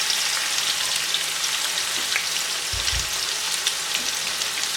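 Two large sliced onions fry in hot oil over high flame with a steady, dense hiss like rain, broken by a brief low knock near the middle. Close and even throughout, with no talking.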